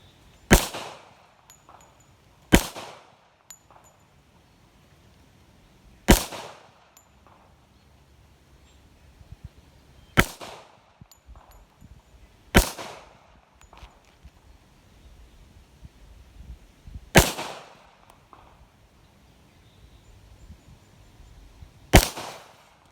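Rock Island Armory M1911-FS GI Standard pistol fired outdoors at paint cans: six sharp, loud shots spaced a few seconds apart, each with a short ringing decay, and quiet gaps between them.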